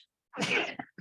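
A single sharp sneeze bursts out close by at a township planning commission meeting, followed by a brief sniff or breath, with silence before and after.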